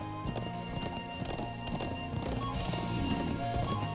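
Horse hooves clip-clop steadily in the Trails of Cold Steel video game, a continuous rhythmic trot set against a busy game soundtrack with no pauses.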